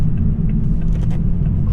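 A 2023 Toyota Supra 3.0L with a six-speed manual driving over bumps, heard from inside the cabin as a loud, steady low rumble of road and engine noise with faint knocks from the suspension.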